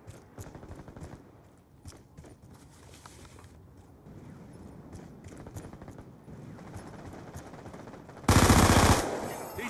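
Rapid automatic gunfire rattles through a Call of Duty multiplayer match, with steady bursts under dense game sound and a very loud blast of fire near the end.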